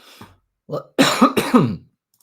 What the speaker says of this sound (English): I gotta stop coughing